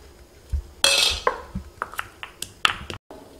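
Irregular metallic knocks and clinks ring out as spices and ginger are pounded in a pot or mortar for a herbal decoction, some strikes heavier, others light and tinny.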